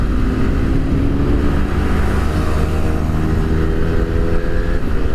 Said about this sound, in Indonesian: Oke, kita gaspol.